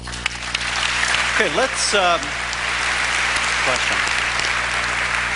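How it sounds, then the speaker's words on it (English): An audience applauds at a televised religion debate between Christopher Hitchens and Tony Blair, a dense, steady wash of clapping filling the hall while a moderator speaks over it. "We like the applauding, so please continue that throughout the debate."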